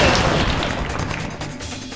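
A grenade blast in the SWAT 4 video game, a loud, dense roaring burst that fills the moment and slowly trails off, with no talk over it.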